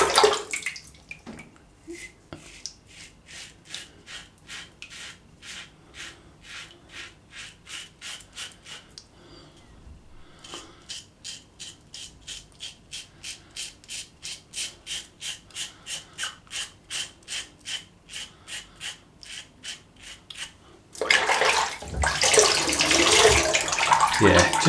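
A wet shaving brush is rinsed under a running tap in a traditional wet-shaving routine. Repeated rhythmic squishing and swishing pulses go on for about twenty seconds, then a louder stretch of steady running water follows. No one talks.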